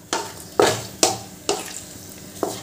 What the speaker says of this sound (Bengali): এবার এই গরম মশলাগুলো ভালো করে ভেজে নেব